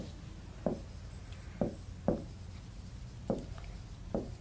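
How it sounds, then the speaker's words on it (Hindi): Marker or chalk strokes on a classroom board come as five short, crisp scratches at irregular intervals, close by and fairly quiet over a faint room hum. "चलो इंग्लिश में लिख ही देते हैं।"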